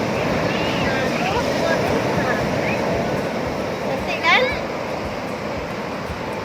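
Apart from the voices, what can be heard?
ocean waves breaking on a beach in West Aceh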